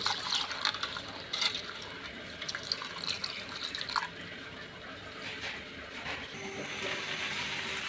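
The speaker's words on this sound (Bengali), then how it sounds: "পানি দিয়ে দিলাম।" Water poured into a tomato mixture in a cooking pot, a soft splashing, dribbling pour with small drips, close and fairly quiet, no talking.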